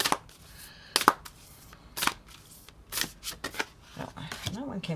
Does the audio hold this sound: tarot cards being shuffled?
yes